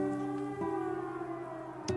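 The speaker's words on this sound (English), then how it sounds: "It sounds like a siren, and it's coming from the watchtower." A steady wailing siren sounds from a watchtower in the video game The Legend of Heroes: Trails into Reverie, its sustained harmonic tone holding loud and unbroken, shifting pitch once partway through.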